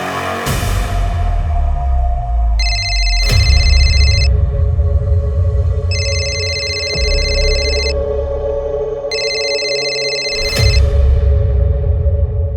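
A telephone rings in an early-morning call, electronic tone bursts repeating three times in a steady rhythm over a dense background of music or ambience, fairly loud and close.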